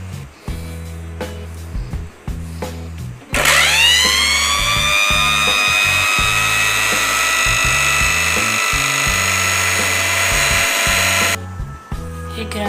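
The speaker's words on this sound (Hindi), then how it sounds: "अब इसको हम ग्राइंड करेंगे।" Electric grinder whirring through ingredients for homemade mozzarella, a loud rising motor whine starting a few seconds in and running steadily before stopping, with background music throughout.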